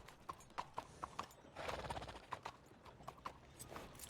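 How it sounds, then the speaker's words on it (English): Horse hooves clip-clop in Red Dead Redemption II, a steady run of crisp, evenly spaced hoofbeats with a brief snort or whinny midway, fairly quiet and close. "Can I hitch my horse?"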